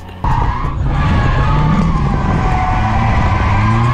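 A loud, steady engine roar with sustained tire screeching as a car drifts, close and continuous after an abrupt start.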